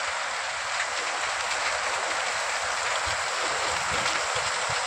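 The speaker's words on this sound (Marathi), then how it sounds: "लय पाऊस चालू आहे जोरात" Heavy rain pouring down during a downpour in Karmala taluka, a dense, steady hiss of water that stays loud and unbroken throughout with no voices.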